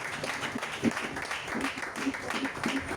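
A congregation clapping during a church service, a moderate, uneven patter of hands with a faint murmur of voices mixed in.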